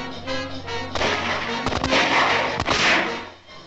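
Gunfire in a colorized western film shootout: several sharp reports, one near 1.7 seconds and another near 2.6 seconds, over a rumbling, noisy background.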